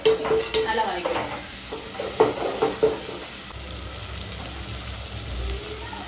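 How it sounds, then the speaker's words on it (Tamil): A ground coconut, ginger and garlic paste being stirred and sautéed in hot oil with tomatoes for a Madurai-style South Indian chicken curry: a steady sizzle with scraping stirs against the pan, close up. "அந்த பேஸ்ட்டை போட்டு நல்லா வதக்கணும்."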